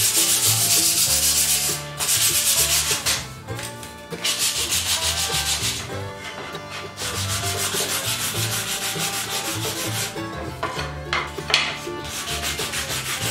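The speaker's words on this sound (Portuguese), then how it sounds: "eu vou lixar agora na mão, tá? Eu vou utilizar aqui uma lixa 220" Hand sanding of a wooden sushi tray with 220 grit sandpaper, close rhythmic scratchy strokes that keep going with a few brief pauses, no talking.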